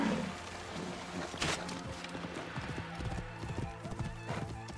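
A horse in the Assassin's Creed Origins video game clip-clops at a steady walk, with close rhythmic hoofbeats throughout, a brief whinny near the start and faint game ambience underneath.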